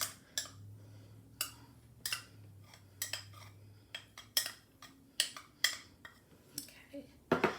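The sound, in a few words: spoon scooping thick tahini into a bowl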